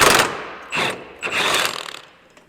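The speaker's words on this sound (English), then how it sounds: "We're gonna take that bolt out." A ratchet works a bolt loose on the rear suspension of a Honda Acty during a lift kit install, giving three close bursts of mechanical clicking and grinding separated by short pauses.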